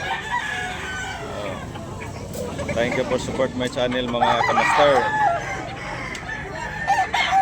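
Roosters crow repeatedly amid clucking poultry, with someone talking over the birds.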